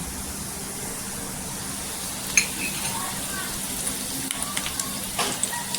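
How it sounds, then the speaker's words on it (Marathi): Curry leaves crackle in hot oil with scattered small pops and ticks over a steady low sizzle, fairly close. "कढीपत्ता पण इथे तडतडलाय।"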